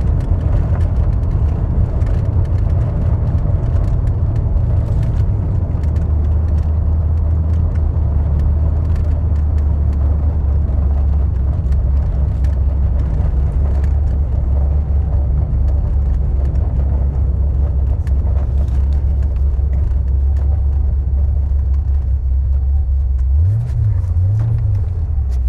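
A Ford Mustang with a manual gearbox drives on the road, its engine a loud, steady low rumble heard from inside the car, with subtle shifts in pitch as it moves through the gears and a short rev near the end.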